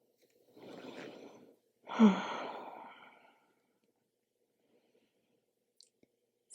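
Deep, slow breathing during a yoga session for golfers: a long breathy exhale, then a fuller sighing breath, close and soft, followed by near silence.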